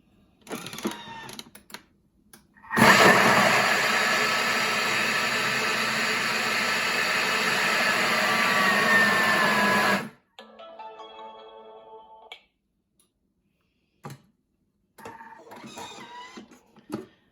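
A kitchen mixer runs on speed 7, churning macadamia and Parmesan biscuit dough in one loud, steady whir of about seven seconds, followed by softer mechanical clicks and short bursts.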